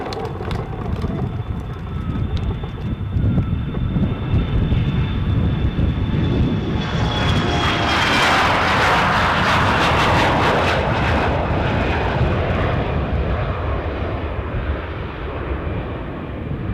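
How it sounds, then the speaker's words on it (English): Scandinavian Airlines CRJ 900ER jet rolling for takeoff at Amsterdam Schiphol, a loud, close engine roar building and peaking mid-run with a rising whine, then trailing off, no talk. "Scandinavian Airlines CRJ 900ER, which is rolling now"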